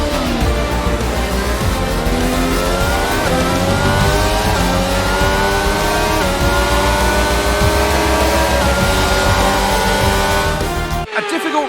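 A Formula 1 car in the F1 22 video game at the Belgian Grand Prix, its engine droning loud and continuous with rising and falling pitch through gear changes, cutting off abruptly at the very end.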